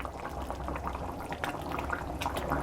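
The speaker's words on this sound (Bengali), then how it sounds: "সব এগুলো একসঙ্গে আমি ফুটিয়ে নেব।" Prawn and eggplant curry with raw banana bubbles in a pot, a steady close simmer of popping and gurgling that carries on without a break.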